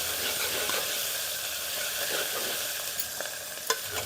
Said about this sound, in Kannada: ಇವಾಗ ಇದಕ್ಕೆ ನಾನು ಶುಂಠಿ, ಬೆಳ್ಳುಳ್ಳಿ ಮತ್ತು ಕೊತ್ತಂಬರಿ ಸೊಪ್ಪನ್ನ ಸಣ್ಣದಾಗಿ ಜಜ್ಜಿಕೊಂಡಿದ್ನಲ್ಲ ಅದನ್ನು ಹಾಕ್ತಾಯಿದ್ದೀನಿ